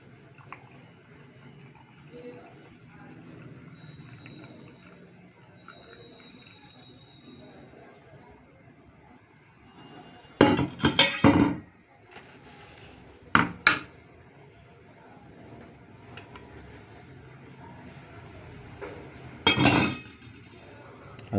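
Boiled ajwain (carom seed) water being strained in a kitchen, with quiet liquid sounds broken by a few sharp clinks of a vessel against metal or glass.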